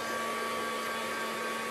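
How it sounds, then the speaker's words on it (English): A heat tool blows steadily and loudly at close range, drying ink and glycerin on a card panel, a continuous broadband whoosh with a faint tonal hum. "I'm just going to get my heat tool out, so apologies for the bit of noise"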